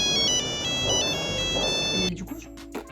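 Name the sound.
mobile phone ringtone ringing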